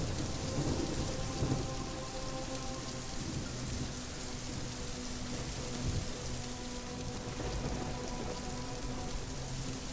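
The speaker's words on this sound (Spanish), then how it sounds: "Está lloviendo otra vez." Steady heavy rain hissing on surfaces with rumbling thunder rolling underneath, a constant dense downpour close by with no voices.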